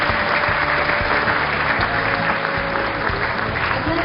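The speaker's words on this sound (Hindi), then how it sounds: "आपकी तालियां रुकनी नहीं चाहिए।" Dense, continuous applause from a theatre festival audience in an auditorium fills the whole stretch, loud and steady with no gaps.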